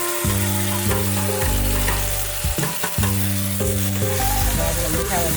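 Spices sizzling in hot oil for Gujarati vagharela rice, a loud continuous frying hiss broken by spoon scrapes, with a steady musical drone running beneath it.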